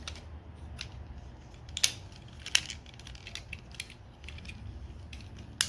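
Small plastic parts of a Transformers Autobot Mira action figure snap and click together in a few sharp, separate clicks. Faint handling rustle fills the gaps, and no one speaks.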